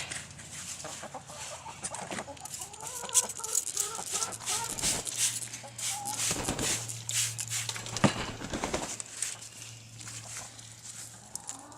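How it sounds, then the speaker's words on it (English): A chicken clucks in short, scattered bursts close by indoors, with a low steady hum running through the background and no one speaking. "Chicken fell off the chair."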